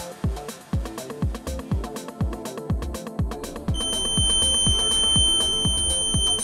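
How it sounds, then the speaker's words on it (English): Buzzer of a homemade Zigbee wireless home security system triggered by a motion sensor, sounding a quick series of sharp, evenly spaced electronic beeps that merge into a continuous high-pitched tone partway through. "The buzzer beeps and shows the information on both the LCD screens."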